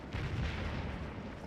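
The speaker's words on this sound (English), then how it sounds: "Some more cannon." Cannon fire in a Civil War strategy game, a single deep booming blast with a rumbling tail, muffled and fairly low in level, no voices.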